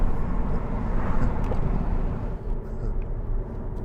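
A 2012 Jaguar XK 5.0 V8 accelerating, its engine and exhaust giving a loud, deep, continuous roar that holds steady throughout with a slight dip near the end.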